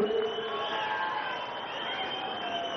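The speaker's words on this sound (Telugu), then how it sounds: "బాగుందంటే గట్టిగా చప్పట్లు కొట్టి అభినందించండి." Large outdoor crowd at a TDP Mahanadu party rally responds with sustained cheering and clapping, a broad, steady roar heard from a distance and fairly faint, without any clear single voice.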